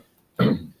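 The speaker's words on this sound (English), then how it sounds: "You need to do something about that cough." A single short cough, close and clear, from a person in a relaxed home setting during a Sunday broadcast, with quiet before it and no talk.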